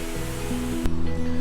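Chicken stock poured into a cooking pot for a Christmas chicken pie, a continuous close splashing rush of liquid that shifts in tone near the end.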